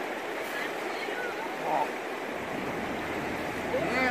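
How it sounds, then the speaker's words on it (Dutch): River water near Futaleufú, a steady broadband rush of flowing current close by, continuous throughout with slight swells and no break. "Heerlijk water."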